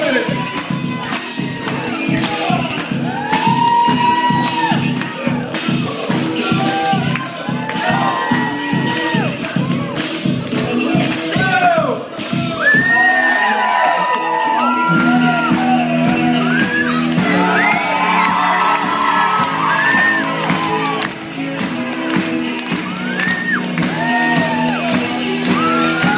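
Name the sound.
crowd of children screaming and cheering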